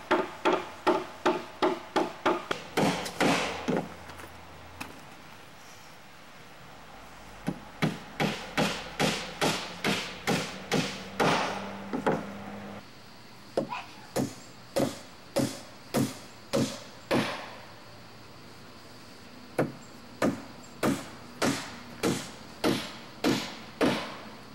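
Hammer blows driving 2.5-inch decking nails into a wooden handicap ramp, struck in quick sharp runs of ten or more evenly spaced hits with short pauses between sets, loud and close with no talking.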